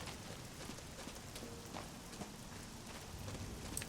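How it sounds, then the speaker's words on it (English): Rain pours steadily in the video game Oblivion, a continuous, even wash of patter heard quietly and alone with no voices. "Wish it would stop raining."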